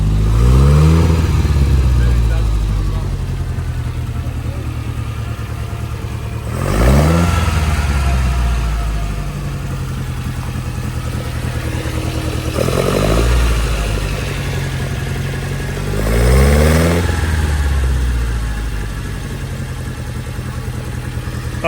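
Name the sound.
1962 Triumph TR4 engine revving, sputtering under acceleration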